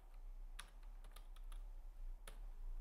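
Typing on a computer keyboard while writing Python code, a handful of soft, close key clicks in irregular bursts over a quiet low hum.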